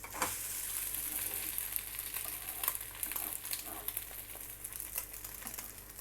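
A chapati omelette with vegetables fries in a pan over a high flame, heard as a steady, fairly quiet sizzle dotted with small crackles and pops, with no one talking.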